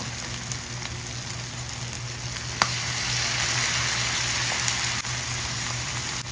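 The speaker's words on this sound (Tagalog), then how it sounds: "na-fry na yung karne. Nagbo-brown na rin." Pork meat frying in a pan for Ilocano-style dinuguan, browning with liver added, giving a steady close sizzle and crackle that runs unbroken throughout with a few sharper pops.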